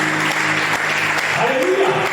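A church congregation at a Christian convention applauds and cheers in praise, broadband clapping and voices filling a large hall for about two seconds, with a sung or spoken tone audible beneath.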